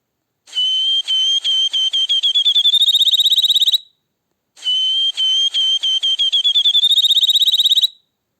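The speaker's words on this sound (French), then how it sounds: "Moineau," A sparrow gives two bursts of high, bright chirps, each starting as separate notes and quickening into a rapid trill, with a clean gap between bursts.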